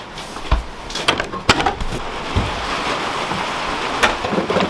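Rain falling steadily outdoors near a barn during a storm, with thunder and scattered sharp knocks and cracks rising over the constant wash of the downpour.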